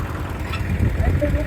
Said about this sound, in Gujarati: હવે ટ્રેક્ટર થી ખેંચશે હમણાં.